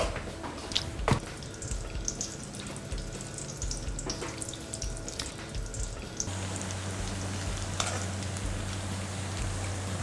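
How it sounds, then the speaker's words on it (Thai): Sliced shallots fry in hot oil for fried shallots in a Thai kitchen, a soft steady sizzle with occasional drips and light clinks, fairly quiet and with no talk. "เจียวอย่างนี้ต้องไฟแบบ แรงไปก็ไม่ได้นะ"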